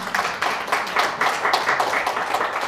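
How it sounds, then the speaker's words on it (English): An audience at a public lecture claps in a steady wash of applause, moderately loud and close, with individual claps blurring together for a few seconds. "Thank you for your applause"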